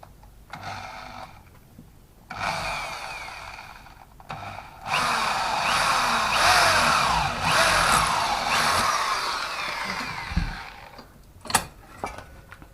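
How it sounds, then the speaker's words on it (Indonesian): A power drill bores a mounting hole for a motorcycle exhaust clamp bracket on a 500cc tube, running in a few loud bursts of steady whine with quiet pauses and small clanks between. "Kita bor."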